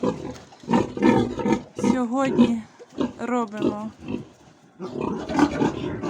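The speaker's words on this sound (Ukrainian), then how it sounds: "Ось такі гарненькі поросятка хороші." Three-day-old piglets squeal in shrill, wavering bursts at close range during tail docking and iron injections on a farm, with two main cries standing out between stretches of a person talking and noisy handling.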